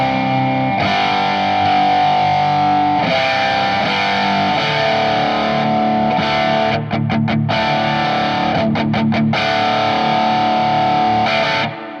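Electric guitar driven through a low-gain boost pedal, a sustained slightly distorted tone ringing out with chords and a burst of quick choppy strums midway, loud and alone.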